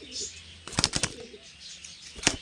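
Pigeons in a loft give a few soft coos with brief wing flaps and flutters near the middle and again toward the end, moderately close, while a voice speaks faintly in the background.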